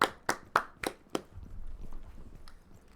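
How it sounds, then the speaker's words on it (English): A small group of staff at an esports showmatch gives a handful of quick, scattered claps that trail off into quiet room tone with a faint low rumble. "Round of applause for our production or assistant production manager Grissom."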